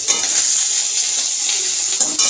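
Ginger, garlic and tomato paste fries in hot oil, giving a steady, loud hiss that runs without a break through the short stretch, with no voices.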